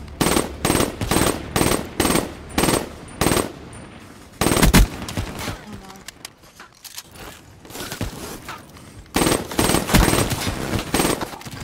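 Rapid bursts from a heavily modified gun carrying six attachments in Black Ops 3, a rhythmic string of loud, close shots, a lull with clicks and footsteps, then another fast volley, with no talk.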